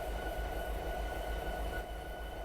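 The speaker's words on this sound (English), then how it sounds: "This is a cab of the SD70M8 Mack diesel locomotive." Diesel rumble of an SD70M8 locomotive engine heard from inside the cab in Train Sim Classic, a steady loud low drone with a constant hum, running alone without talk.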